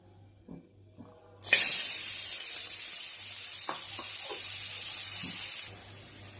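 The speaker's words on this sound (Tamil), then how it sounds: "ஃபர்ஸ்ட்டு நம்ம ஒரு பேனில் எண்ணெய் ஊற்றி நம்ம கட் பண்ணி வச்சுருக்க வெஜிடபிள்ஸை நல்லா ஃப்ரை" Cut vegetables hit hot oil in a pan for white sauce pasta, a sudden loud hiss that settles into a steady sizzle for several seconds before dropping away, with a faint low hum beneath.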